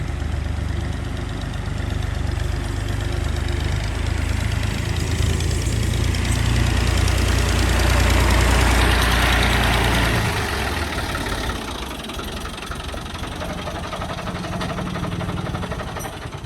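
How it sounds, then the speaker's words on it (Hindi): A Fiat 480 tractor, 2000 model, running steadily at idle nearby, with a low throbbing engine rumble that swells toward the middle and then eases off slightly. No one speaks. "एक और ट्रैक्टर आ रहा है"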